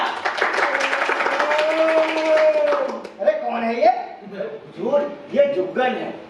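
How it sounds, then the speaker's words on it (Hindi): Audience applause at a stage play rises for about three seconds beneath a sustained voice, then gives way to animated talking. "तालियां!"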